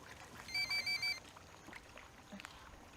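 Telephone bell ringing in four short, evenly spaced bursts over a quiet background, then fading into faint low noise.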